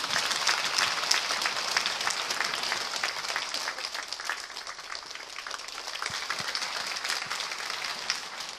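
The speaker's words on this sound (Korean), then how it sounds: "이 시간 나오실 때 힘찬 박수로 환영해 주시기 바랍니다" A church congregation gives warm, steady applause to welcome a guest singer of Korean traditional gugak hymns at a Sunday afternoon service. The clapping is continuous and moderately loud, with crisp individual claps standing out from the crowd.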